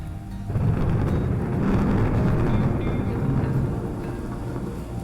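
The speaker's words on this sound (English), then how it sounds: "The thunder was getting super loud" Heavy thunderstorm out in open country, a loud continuous rumble of thunder rolling over steady rain, dense and close throughout with no voices.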